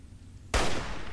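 One sudden loud long-range gunshot from Fallout 3 cracks out after a quiet moment and leaves a fading echoing tail.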